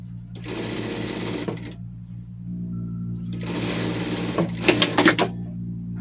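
A sewing machine straight-stitches thin 100% cotton knit fabric in two loud running bursts separated by a short pause, with faint clicks and handling noise near the end.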